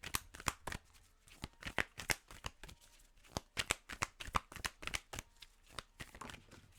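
Tarot advice cards are shuffled and drawn, giving quick crisp riffles and slaps in an irregular flurry. They sound close but fairly soft, with no voices.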